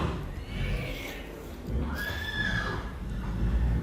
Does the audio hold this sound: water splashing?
no